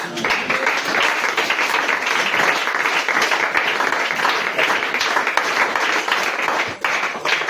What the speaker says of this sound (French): Donnons-lui encore les acclamations